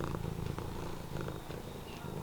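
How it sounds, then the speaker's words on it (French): A pet cat named Momo purrs up close during a cuddle in a hallway, a soft, steady rumbling with rhythmic pulses from breath to breath, faint and intimate, with no talk over it. "mon chat qui me fait des câlins"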